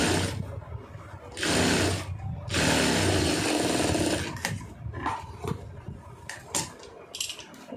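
A sewing machine stitches a lining blouse in long motorized runs, with two loud sustained bursts followed by shorter, intermittent stitching and a few sharp clicks, close and alone.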